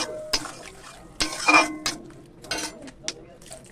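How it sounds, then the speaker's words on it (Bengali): A little water is poured into a pan of okra, giving a brief splash and sizzle amid clinks of a utensil against the pan; the clatter comes close and in short bursts. "হালকা জল দিয়ে, বেশি জল দিচ্ছি না কারণ এটা মাখা মাখাই করবো।"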